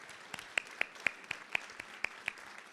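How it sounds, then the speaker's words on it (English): A few isolated, slow hand claps at a charity gala fundraiser, spaced roughly a quarter second apart, quiet and sparse over faint room noise. "let's give these 3 donors another big round of applause"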